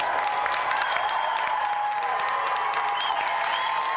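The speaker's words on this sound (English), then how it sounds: "let's have another round of applause for our two celebrity guests, Hugh Higginson and Mark Wingett." A television game show studio audience applauds steadily and loudly throughout, a dense continuous clatter of clapping with no speech over it.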